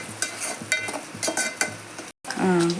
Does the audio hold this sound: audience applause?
no